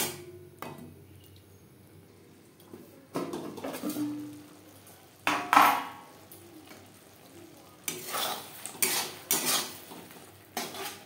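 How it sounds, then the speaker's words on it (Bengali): Spices and tomatoes fry in a pan over medium-low flame, a soft steady sizzle broken by several bursts of a spoon scraping and stirring against the pan and clinking, with quiet gaps between. "মশলা বেশ ভালো করে কষিয়ে নেব।"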